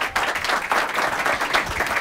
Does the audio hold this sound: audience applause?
yes